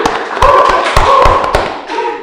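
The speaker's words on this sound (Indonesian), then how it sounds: "Tepuk tangan, Kak." A few people on a podcast set clap their hands briefly at close range, sharp separate slaps and thumps in an irregular burst rather than a full crowd's applause.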